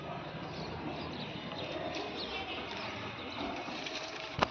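Pigeons coo in a home pigeon loft, the soft calls blurred into a dense, steady wash of background noise that runs the whole time, with a brief sharp knock at the very end.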